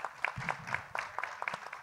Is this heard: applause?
yes